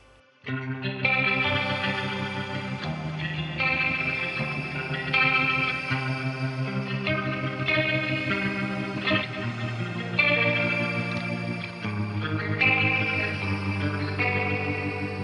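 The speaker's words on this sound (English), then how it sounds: "There is also a rotary here." Clean electric guitar chords through the rotary effect of a BOSS GX-100 multi-effects pedalboard ring out with a swirling, warbling modulation, sustained and fairly loud with no talking.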